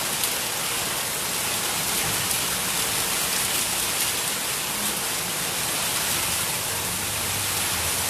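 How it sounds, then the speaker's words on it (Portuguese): Heavy rain pours down steadily, a dense, loud hiss that stays even from start to finish with no voices. "a chuva está forte aqui"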